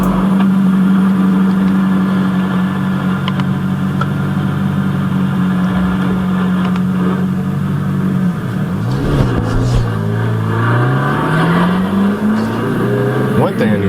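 SSC Tuatara hypercar engine on a speed record run, a steady droning tone that holds then drops and climbs again as it shifts and pulls away, with a voice talking over it.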